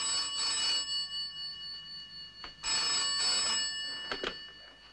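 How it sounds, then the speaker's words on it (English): An old landline telephone bell rings in bursts, a bright metallic trill repeating twice with a short gap, fairly loud indoors. "Answer the phone, Jeff."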